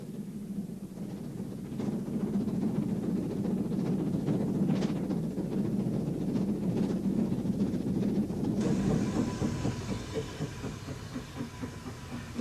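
Steam locomotive 3442 hauling a train toward Brighton in 1967, a steady rumbling chuff with hissing steam and wind buffeting, the noise brightening into a harsher rush partway through.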